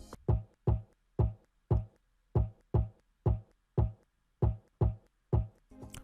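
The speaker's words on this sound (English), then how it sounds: "we just have a simple percussion groove" A simple percussion groove in an Afrobeat-style beat plays as sharp, evenly spaced hits in a steady repeating pattern, punchy and close with silence between strikes and no voices.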